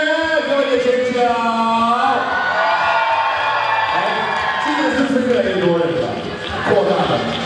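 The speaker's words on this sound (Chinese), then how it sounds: "给我一个尖叫" Large crowd screaming and cheering at a company year-end banquet in a Taipei hotel ballroom, a sustained loud roar of whoops and shouts that swells and then fades slightly near the end.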